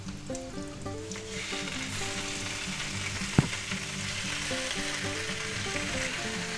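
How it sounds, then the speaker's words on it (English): Slices of ham sizzling steadily in a frying pan, a constant close crackle with one brief sharp clatter partway through. "And we'll go ahead and fry them up."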